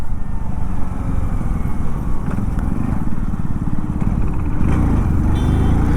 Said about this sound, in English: This is so much easier to take U-turns on this motorcycle.